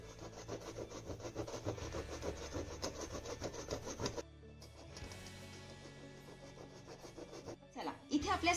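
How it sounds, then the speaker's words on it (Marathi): Leftover chapati being grated by hand on a kitchen grater, a steady rhythmic rasping that runs for several seconds, pauses briefly, then resumes more softly with a few louder scrapes at the end. "छान अशी चपाती किसली जातीये."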